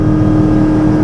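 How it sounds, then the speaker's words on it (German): A Nimbus Commuter 9 boat with a Duoprop sterndrive (Z-drive) makes a loud, steady, close exhaust drone and engine rumble with a strong low tone while cutting through a tight turn. "Da hört man eigentlich, denke ich, den Auspuff des Z-Antriebs"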